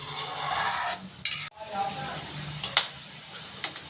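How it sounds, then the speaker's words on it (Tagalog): Crispy Filipino tengang kawali, deep-fried pig ears, frying in a pan with a steady hiss and sizzle and a few sharp pops, close by, while people talk over it. "Nagtitengang kawali na po siya. Ibig sabihin, naglalagis-lagis na po."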